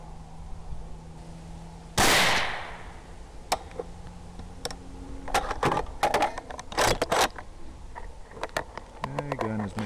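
A single sharp rifle shot fired at a chemical hand warmer target at a range, loud and abrupt, followed by scattered clicks and handling noises of the weapon and thermal clip-on sight.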